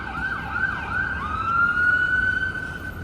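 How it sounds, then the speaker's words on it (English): An ambulance siren wails on a downtown Toronto street, its rising and falling tone sustained and growing slightly louder as it approaches, over low traffic noise. "Got an ambulance coming our way here."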